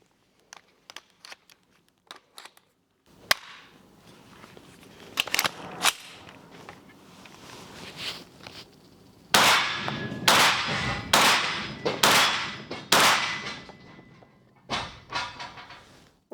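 Shots fired at a shooting range while using a Vzor-4 laser sight come as a series of sharp, close cracks, sparse at first and then a dense run of loud reports, with clanks and handling noise in the gaps.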